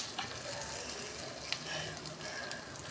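Oil and ingredients sizzle steadily in a pan while frying the base for paneer sukka, a continuous hiss with a few scrapes of stirring, close and moderately quiet.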